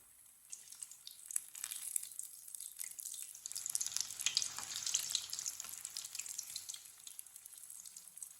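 White chickpea kebabs fry in a pan with a quiet, crackly sizzle of oil spitting in fine bursts that swell in the middle and then ease off.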